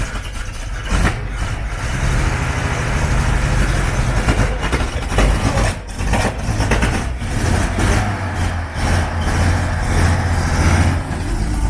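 Canteen trailer engine running as the vehicle drives under its own power along a finishing straight, a loud, rough, continuous mid-pitched rumble with fluctuating revs and no talk.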